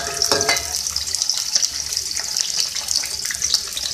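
Green chilies and tomatoes frying in a pan make a loud, bright hiss of bubbling oil with crackly bursts, continuous and close, with no voice over it.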